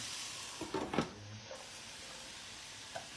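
Quiet steady sizzle of radish and carrots cooking in a pan, with a few soft clinks and stirring scrapes over the hiss.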